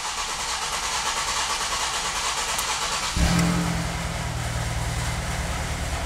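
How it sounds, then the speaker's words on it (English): Ford Escape four-cylinder engine with a cylinder one misfire and low compression, cranking with a steady mechanical drone before it catches into a rougher, louder running hum partway through, close up with no talking. "the quickest thing to do right off the bat is pedal to the floor and crank it"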